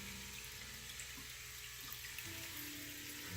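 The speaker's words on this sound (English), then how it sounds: "This is my first sump pump." Water churning and splashing steadily from a sump pump in a 40-gallon aquarium with a 20-gallon sump, a continuous close trickle and gurgle running throughout with no voices.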